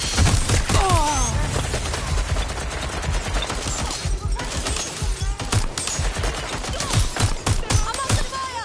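Sustained heavy gunfire rattles nonstop in bursts and volleys, loud and close, with sharp individual cracks layered over a dense barrage throughout.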